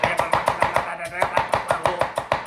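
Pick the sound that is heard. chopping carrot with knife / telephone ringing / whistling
chopping carrot with knife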